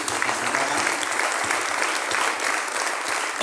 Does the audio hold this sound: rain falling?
no